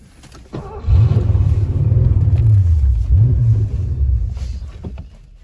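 A 1982 Porsche 928 engine idles and pulls at low RPM, its deep loud rumble wavering and surging unevenly with a faint hesitation partway through, with no talking over it.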